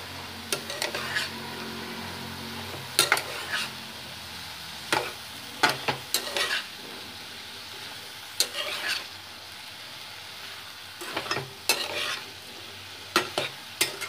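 Boiled potatoes are stirred and fried in a pan for a broccoli potato curry, with spatula scrapes and clinks repeating at irregular intervals over a low, steady sizzle.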